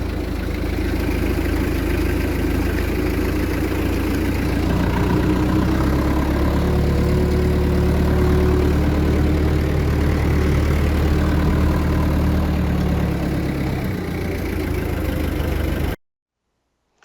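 Tractor engine running low and steady while driving through a flooded rice field in São Francisco de Assis, Rio Grande do Sul, a rumbling idle-like drone with sloshing texture that cuts off abruptly at the end.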